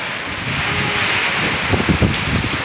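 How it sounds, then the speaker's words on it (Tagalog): Strong wind from Typhoon Nika roars steadily against the microphone, with rustling and buffeting gusts that grow rougher near the end. "Mahangin na naman."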